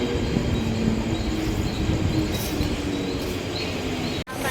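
A train at a busy railway station near CSMT, with a steady loud rumble and rolling railcar noise running throughout, a brief dropout near the end.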